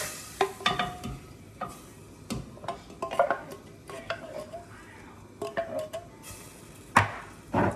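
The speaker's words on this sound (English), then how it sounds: "So put your broth into a hot pan, along with the coconut milk" Broth and coconut milk for a chicken and prawn laksa hiss gently in a hot pan while a utensil scrapes and clinks against the metal in irregular bursts, close up and moderately loud.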